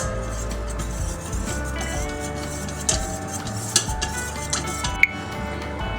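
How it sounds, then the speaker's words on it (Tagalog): A utensil stirring cornstarch mixture until it dissolves, quick clinks and taps against a bowl in an irregular rhythm, close and clear with no talking. "Tapos haluin natin ito guys hanggang sa matunaw ang ating cornstarch"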